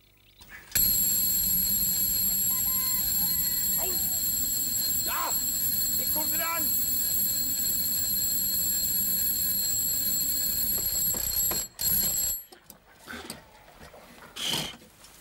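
An alarm clock rings loudly and continuously indoors for about eleven seconds with a steady metallic ringing, then cuts off, followed by brief scattered sounds.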